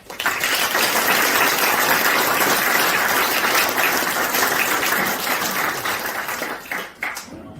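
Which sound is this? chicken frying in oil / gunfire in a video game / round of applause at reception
round of applause at reception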